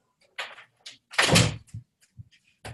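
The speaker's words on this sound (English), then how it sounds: "I'm going to close my door because I hear a bunch of noise" An indoor door is pushed shut, giving a short thunk among a few brief knocks and handling sounds, close by in a quiet room.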